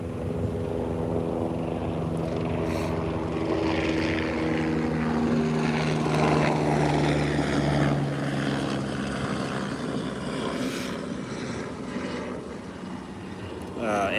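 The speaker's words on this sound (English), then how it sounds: "an airplane flew over, so I was like, oh, airplane" A propeller airplane passes overhead in a steady, loud drone lasting the whole stretch, with a faint voice murmuring underneath.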